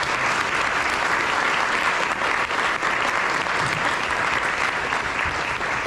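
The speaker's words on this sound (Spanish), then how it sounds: "¿Me ayudan con un fuerte aplauso a los dos panelistas?" A live audience at a logistics breakfast event gives the two panelists a strong round of applause, dense steady clapping that stays loud and even for about six seconds with no talking over it.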